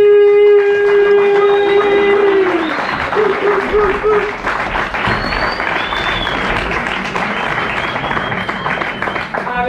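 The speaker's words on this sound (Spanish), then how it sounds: "quiero que recibamos con un fuerte aplauso, con un fuerte ruido" An audience at a concert in a bar, Teatro Bar El Suplicante, claps loudly in a dense wash that lasts the whole time, with a voice and cheers over it at the start.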